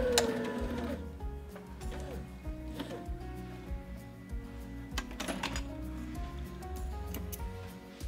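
A sewing machine stitches a hem in short runs, its needle chattering rhythmically near the mic between brief pauses, with small clicks and fabric handling around it and no clear talk.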